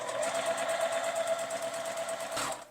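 A sewing machine stitches a straight line on a scarf to make a scrunchie, giving a fast, even, close-up mechanical whirr with a rapid stitching pulse that stops near the end.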